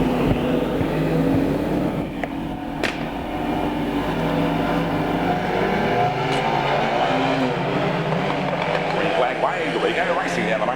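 Division 2 speedway race cars roar down the main straight at Archerfield Speedway in 1997, engines droning steadily and loudly throughout beneath continuous commentary.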